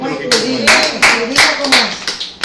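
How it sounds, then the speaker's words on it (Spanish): Rhythmic congregation clapping at a Spanish-language evangelical service, sharp regular claps close by, mixed with a voice talking over them. "Denle un aplauso a Cristo."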